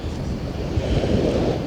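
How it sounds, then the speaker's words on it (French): Strong wind buffeting the microphone at a beach on a gusty morning, a dense continuous roar with surf mixed in, loud and close, no talking. "il y a encore beaucoup de vent ce matin"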